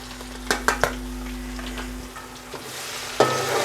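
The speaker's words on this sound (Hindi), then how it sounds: "अब हम इसमें अदरक लहसुन का पेस्ट डाल देंगे।" Ginger garlic paste frying with browned onions in a pan for chicken pulao, a steady close sizzle broken by three sharp clinks of a spoon stirring early on and a louder scrape near the end, with no talk.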